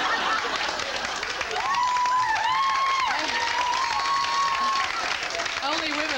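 Applause and cheering from a comedy club audience at a 1989 stand-up show, a steady broadband clatter of clapping throughout with some vocal whoops and tones over it, fairly close and continuous.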